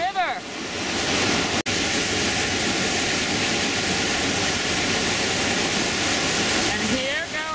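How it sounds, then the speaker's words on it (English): Roaring whitewater of a river rapid with a giant hydraulic on the Gauley River, a dense, loud, continuous rush of churning water with a brief dropout early on and faint squeaky sounds at the start and end. "What we've got here is a giant hydraulic in the river."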